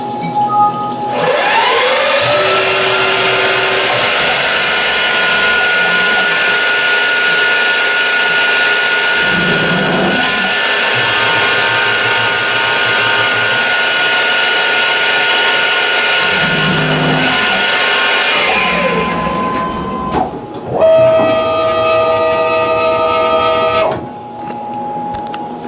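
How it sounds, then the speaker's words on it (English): A power tool countersinking holes in XYZ spacers: a loud, sustained whine that spins up, holds steady for about twenty seconds with brief load changes, winds down, then runs again briefly. "We're just going to countersink these holes."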